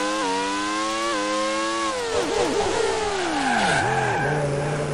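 Race car in the 1996 Grand Prix 2 racing sim braking hard into a turn, steady engine whine dropping in pitch before loud, wavering tire squeals and skidding as the car slides, continuous and close with no talk.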